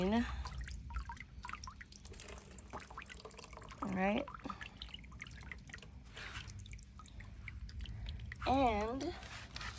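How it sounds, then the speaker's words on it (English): Water drains and drips from soaked orchid wood chips in a wire basket. Scattered drips and trickles sound close by, with a few brief louder splashy bursts, and a voice speaks briefly. "So I'm gonna take it out and drain it. Let all the water drain."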